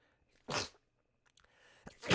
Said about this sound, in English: Sorry about the sneezing.